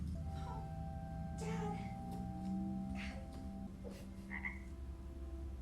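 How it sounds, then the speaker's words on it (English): Frog croaking in the animated film Shrek 2, a few throaty croaks over a soundtrack of music and chatter, with voices talking in the scene. "They turned him into a frog. He croaked."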